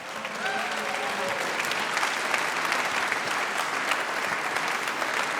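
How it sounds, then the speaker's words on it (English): An audience applauds at a prizegiving during a demoscene event, sustained, dense clapping from a large crowd that stays steady and full for several seconds. "Give them a hand."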